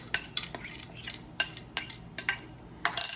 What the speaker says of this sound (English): So now I am going to toss this mix all over